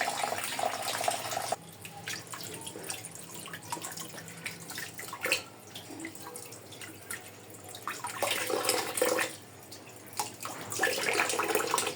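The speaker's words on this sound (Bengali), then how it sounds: "মাংসগুলোকে সুন্দর করে ধুয়ে নেওয়া হচ্ছে।" Tap water runs over raw meat being washed in a sink early on an Eid morning, a steady splashing stream with shifting gurgles and drips as the pieces are turned and rinsed.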